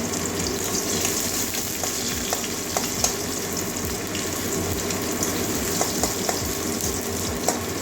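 Onion and green chili frying in hot oil in a pan, a close, steady crackling sizzle with occasional sharp pops and stirring, no talk.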